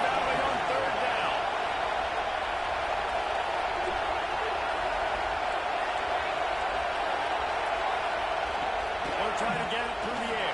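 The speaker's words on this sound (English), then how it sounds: "Here comes the noise from this big crowd in Happy Valley on third down." Big stadium crowd roaring at Happy Valley on third down in College Football 26, a dense sustained wall of noise throughout, with a commentator's voice talking over it.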